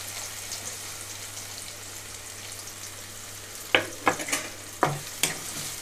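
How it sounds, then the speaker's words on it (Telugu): Chopped onions dropped into hot oil with fried tempering seeds and dried red chilli for a Telugu potato fry, giving a steady sizzle with several sharp clattering stirs near the end. "ఇందులోకి కట్ చేసి పెట్టుకున్న ఉల్లిపాయలు వేస్తున్నాను"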